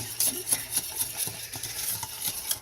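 Foamy melted marshmallow mixture being whisked in a bowl, giving steady wet scraping and light clicking strokes with a faint sizzle-like crackle, close and fairly quiet, no talking.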